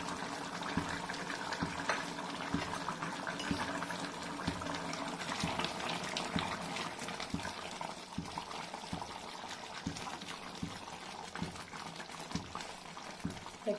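Fish curry of bommidalu (small eel-like fish) with raw mango simmers in a covered pot, giving a steady soft bubbling and gentle boiling hiss throughout, with faint clinks now and then and no talking.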